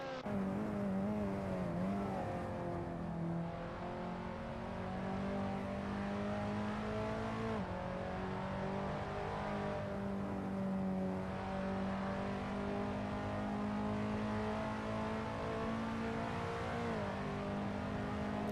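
KTM X-Bow GT4 race car engine from inside the cockpit in Assetto Corsa at Barcelona, a steady loud drone with rising and falling revs through gear changes, continuous for the whole lap segment.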